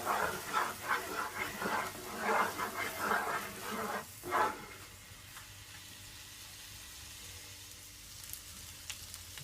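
Garlic and ginger frying in oil: a busy crackling sizzle with stirring scrapes for the first few seconds, then a quieter, steady low hiss of oil bubbling alone.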